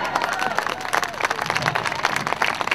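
A crowd claps steadily with scattered cheers, a dense continuous wash of applause welcoming Lake County Honor Flight veterans home; voices mix into the noise.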